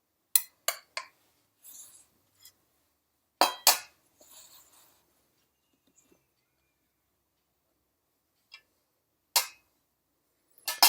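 A knife cuts through the flaky baked crust of a Greek village-style spinach pie, giving scattered crisp crackles and light clinks, some in quick pairs, separated by long quiet gaps.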